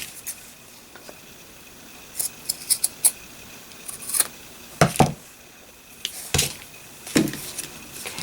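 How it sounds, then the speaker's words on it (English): Scissors cutting paper up close, a series of crisp irregular snips and rustles, some louder than others, with no talking. "Let me get my better scissors out. They'll cut a little better."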